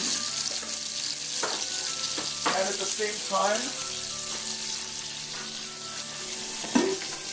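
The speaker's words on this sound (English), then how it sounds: "Now this is frying up." Bacon and garlic sizzle steadily in a pan for linguine carbonara, with a constant crackling hiss and a few scraping stirs and clinks, while a person speaks briefly over the frying.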